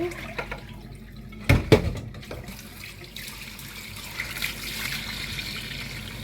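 Cleaned crabs being washed under a running tap in a sink for a spicy village-style crab curry, with flowing water, a couple of sharp knocks and splashes, and trickling that continues throughout.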